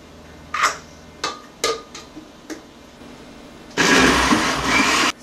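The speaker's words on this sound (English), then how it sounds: "And then turn the blender on." Several sharp clicks and knocks precede a kitchen blender whirring loudly to life for the last second and a half, churning a date shake made with ice cream.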